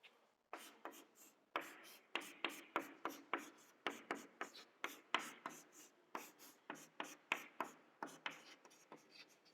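Marker or chalk writing on a board during an organic chemistry lecture, quiet rhythmic strokes and taps in quick bursts, close and faint, with no talk.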